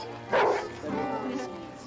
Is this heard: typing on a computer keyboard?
no